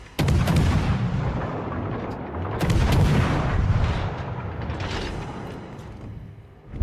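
Heavy, reverberant booming of battleship main guns firing in World of Warships Legends, a dense roll of blasts that swells and fades over a steady game background, with no talk.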